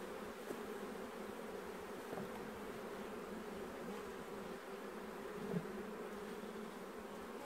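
A dense, steady drone of many honeybees buzzing around an open hive during a queen-cell inspection and hive split outdoors, continuous and fairly close, with no speech.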